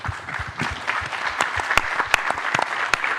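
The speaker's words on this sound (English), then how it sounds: "please give us a round of applause" A round of applause from a conference audience at a tokenization event, steady dense clapping with several loud close claps punctuating it throughout the short burst.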